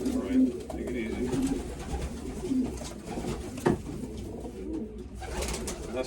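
Pigeons coo softly and steadily while being handled for banding, with a few brief louder calls and handling noises over low background hum.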